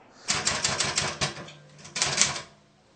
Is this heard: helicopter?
no